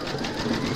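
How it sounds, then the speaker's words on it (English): An embroidery machine stitches a round of a free-standing lace poppy centrepiece in a steady, dense mechanical hum with rapid needle pulses, close and constant. "Pop your hoop into your machine and stitch round number five."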